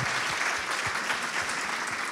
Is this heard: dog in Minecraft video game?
no